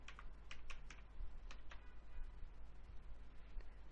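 Quick, light keystrokes on a computer keyboard as a password is typed, clicking in short irregular bursts at a steady moderate level with no talking.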